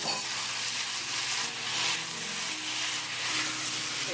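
Tomato rice sizzles in a hot pan while chopsticks stir it, a close, steady frying hiss with soft scraping strokes throughout and no talk.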